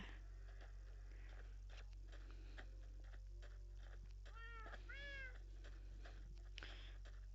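Cats in Minecraft PE meow several times in quick rising-falling calls, faint and close, over a low steady hum with soft chewing-like clicks.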